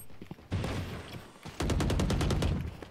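Gunfire in the Valorant video game: a single burst early, then a rapid, evenly spaced string of loud shots, close and crisp.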